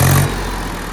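Loud, close Mahindra 265 DI XP Plus tractor engine winding down from a short rev into a steady idle.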